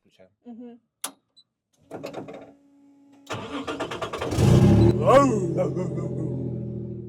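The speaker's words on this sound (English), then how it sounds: "That's the kill switch, this starts the engine." A drift car's engine cranks and catches after a few clicks and a short whirring starter, then revs up with rising and falling throttle blips, loud and close, settling into a rough idle, with someone speaking briefly beforehand.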